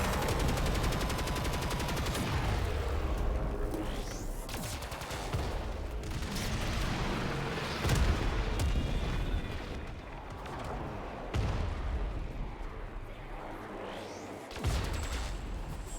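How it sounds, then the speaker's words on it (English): Grineer enemies firing in Warframe, bursts of gunfire and blasts with booming impacts and swooshing effects, loud and continuous with brief lulls between volleys. "we have Grenier over here shooting at us"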